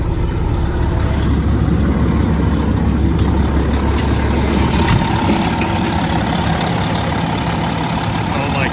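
A dump truck engine idles with a steady low rumble, close by, continuous throughout with faint clanks in the background.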